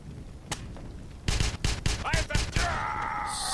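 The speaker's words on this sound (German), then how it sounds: "die Partikelkanone ist echt cool. Also, die haut auf jeden Fall rein" Rapid, heavy shots from a particle cannon in the Wolfenstein video game, a run of five or six loud bursts fired close together, followed by a lingering whining energy hum.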